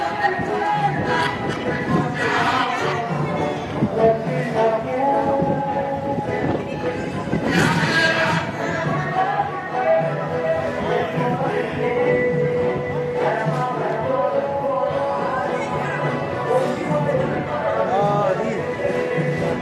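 A seated crowd at a 29th Independence Day celebration on October 1, 2023, giving a steady, dense murmur of many voices and chatter throughout, with occasional louder swells.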